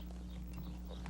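Horse hooves clop at a slow walk in Oklahoma, several soft irregular strikes at moderate distance over a steady low hum.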